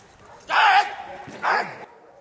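Two loud barks from a police service dog on patrol, close and sharp with a pause between them, over faint background noise.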